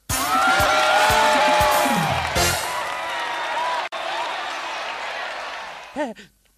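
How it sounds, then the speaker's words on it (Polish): A studio audience applauds and cheers at a Polish comedy show, dense sustained clapping that is loud at first, thins out, and gives way to a brief voice at the close. "bo zasłużyłem na te oklaski"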